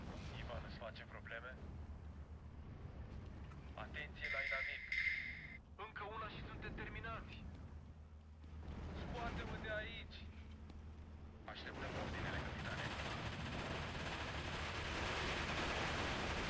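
Distant artillery fire in Steel Division 2 rumbles and thuds at intervals, with softer crackling impacts building toward the end, while a person talks over the battle at moderate volume.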